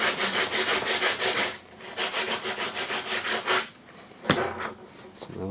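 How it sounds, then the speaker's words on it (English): Sanding the corner of a laminate countertop bevel edge by hand, quick rhythmic back-and-forth rasping strokes in close bursts, pausing briefly before resuming, no talk. "Obviously now we gotta sand this corner a little bit."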